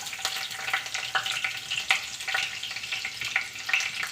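Chopped garlic fries in sunflower oil in a kadai for restaurant-style chicken fried rice, giving a close, steady sizzle with light crackling pops and occasional stirring ticks.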